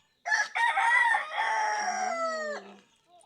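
A rooster crows once, a loud drawn-out call that rises and then trails off, close by with no other sounds around it.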